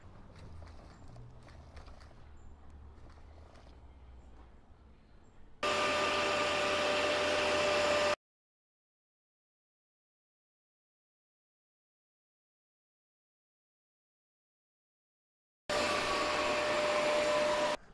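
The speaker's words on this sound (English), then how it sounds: "now I just have to set the saw up to cut away that waste" A power saw cuts away waste wood for a picture frame in two loud, steady whining runs separated by a long silence, following a stretch of quieter tapping and shuffling at close range.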